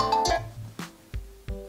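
A mobile phone ringtone for an incoming call plays a short melodic phrase of clear tones, loud and close, with several struck notes ringing out and no speech.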